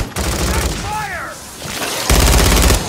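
Dense automatic gunfire and explosions crackle loudly throughout a zombies mission in Call of Duty: Modern Warfare, with a burst of rapid shots swelling near the end while a voice briefly shouts over the din.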